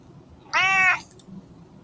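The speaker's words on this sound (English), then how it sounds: "that kitty's right there on that microphone, isn't she?" A house cat meows once, loud and close to a microphone on a camera, a single drawn-out call with a quiet room before and after it.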